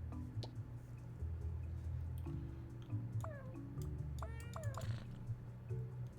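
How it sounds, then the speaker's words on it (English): Short, high cartoonish cat meows from a video game, set off by mouse clicks on an on-screen cat, come in several separate chirps over a steady low background hum and some faint voice. "Every time you click on it, the cat makes a little noise."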